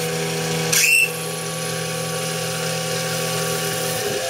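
A 3/16 reamer turning slowly at about 350 RPM gives a steady, close mechanical whine and hum with stable tones, broken by a brief louder, harsher burst near the start when it engages.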